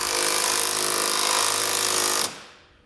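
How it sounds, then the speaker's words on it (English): Loud, continuous rattling buzz of a power tool snugging trailer hitch hardware on a 2012 Ford Edge, running steadily for about two seconds before stopping and fading. "Now we're going to go ahead and snug up our hardware and torque it down."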